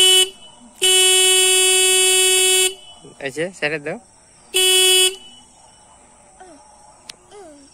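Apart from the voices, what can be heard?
motorbike horn honking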